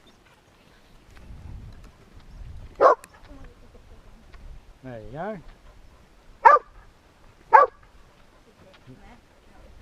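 A dog waiting for a ball to be thrown gives three sharp, loud barks at spaced intervals, plus a short whining yelp, outdoors on a walk through fields, with someone speaking briefly nearby.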